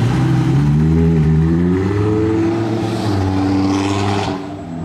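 A convoy of supercars, including two Audis with roof boxes, rumbles past nearby with a loud, sustained engine drone and shifting revs before it tapers off as the cars move away.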